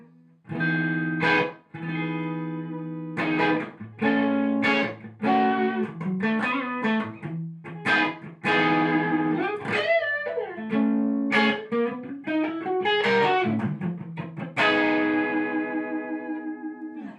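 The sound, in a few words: electric guitar through tube amp overdrive channel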